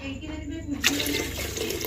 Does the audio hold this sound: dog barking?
no